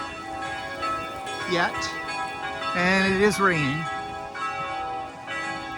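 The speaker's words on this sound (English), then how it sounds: "you can hear all the bells in the background." Church bells ring steadily in the distance in the Netherlands while a person talks over them and rain falls.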